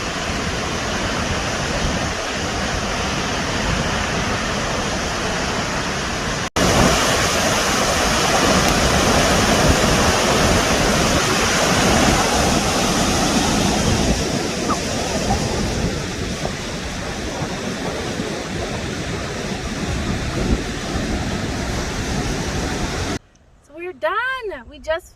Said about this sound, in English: This is our last waterfall to take it